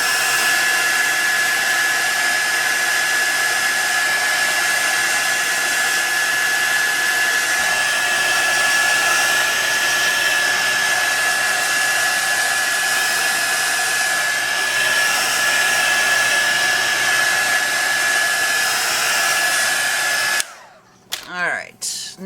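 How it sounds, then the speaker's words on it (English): A craft heat tool blows steadily over Dylusions paint to dry it, a loud, even roar lasting about twenty seconds. It cuts off abruptly near the end, leaving a few brief clicks and rustles. "let me hit that with my heat tool for 1 second"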